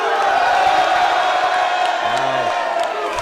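A large crowd cheers and whoops at a Don't Flop rap battle at Ministry of Sound, a steady loud roar of many voices with a few shouts rising above it.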